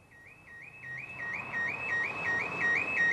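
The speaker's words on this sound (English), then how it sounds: "The villains had somehow triggered the truck's alarm on the way" A truck's alarm sounds outside a disused warehouse, a rapid repeating electronic warble that grows steadily louder over a dull background rumble, with no voices.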